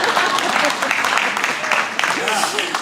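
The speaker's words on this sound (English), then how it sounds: "You can clap for me." An audience at a guide dog graduation claps steadily throughout, a dense spread of hands with a voice speaking over it.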